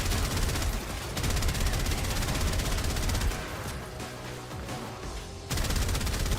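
Trumna rifle in Warframe firing in long, rapid, continuous bursts, a loud dense rattle of shots with a brief pause and softer stretch before resuming at full force.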